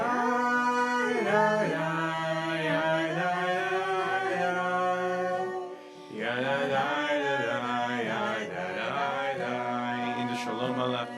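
Wordless nigun melody sung by several voices together at a Shabbat service, a steady sustained tune with sliding phrases, a short breath around the midpoint before the singing swells back in.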